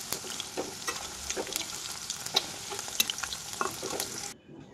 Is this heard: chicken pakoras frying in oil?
yes